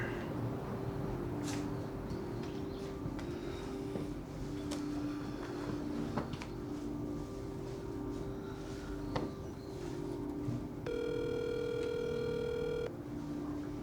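A phone call rings out through the earpiece, a thin repeating ringback tone that appears near the end over muffled room ambience.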